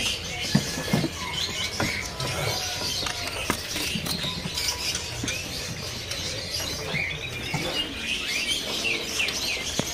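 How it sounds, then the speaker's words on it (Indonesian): Common iora birds chirp busily inside a bird shop, with many overlapping bright tweets and calls filling the space steadily throughout, along with light rattling and pattering. "Di sini ada burung cipo teman-teman ya."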